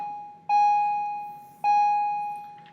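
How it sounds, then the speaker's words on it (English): School bells ring in a classroom: two loud electronic chimes, each a bright sustained tone that slowly fades, about a second apart. "Don't mind the bells ringing."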